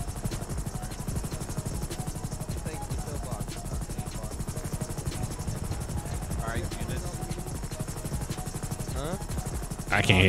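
A helicopter in the video game GTA 5 makes a constant rapid rotor chop over a steady engine whine throughout, with other game sounds and a voice mixed in beneath it.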